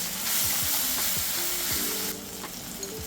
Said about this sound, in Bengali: হাই ফ্লেমে রান্না করছি